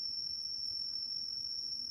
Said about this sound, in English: You're hearing the crickets?